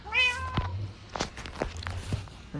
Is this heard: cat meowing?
yes